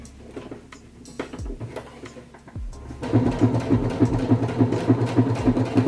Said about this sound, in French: Je vais juste coudre un trait ici à peu près à 5 mm du bord